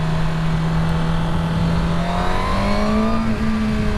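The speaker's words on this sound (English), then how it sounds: "I saw the car come over, I saw the blinker" Car engine in a parking lot, a steady mid-pitched hum that builds and rises in pitch as the car nears, with no voices.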